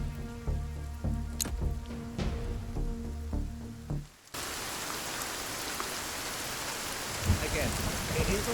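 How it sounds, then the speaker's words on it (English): In the Sons of the Forest video game, halting, repeated clicks and knocks give way abruptly to a dense, continuous wash of rain that carries on steadily to the end. "it is also raining as well in the game"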